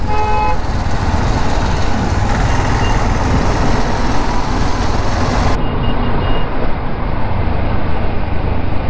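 A lorry sits amid dense Bengaluru road traffic, its engine rumbling steadily with horn toots and reversing beeps, a continuous loud broadband roar from nearby vehicles throughout.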